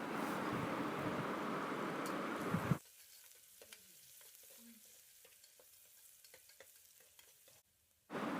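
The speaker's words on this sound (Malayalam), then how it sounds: "6 ചെറിയുള്ളി ചെറുതായി അരിഞ്ഞു വെച്ചത് ഇട്ട് കൊടുത്തിട്ടുണ്ട്. എന്നിട്ടിതൊന്ന് വറുത്തെടുക്കാം." Loud, dense sizzling of chopped shallots frying in oil drops suddenly to a quieter crackle and scattered pops, then swells up again at the end.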